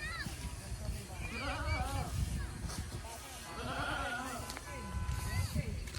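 Goats bleat repeatedly at a farm, their wavering cries rising and falling amid steady background noise and nearby talk.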